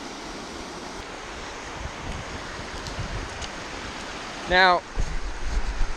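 Water spills over a small waterfall dam into a stream, a steady broadband rush heard up close with some wind, while someone speaks briefly near the end.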